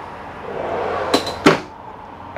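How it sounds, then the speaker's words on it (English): Two quick wooden full-extension drawer slides with sharp clunks inside a 2018 Tiffin Phaeton motorhome, close by, over a faint background hum. "Big full extension drawers."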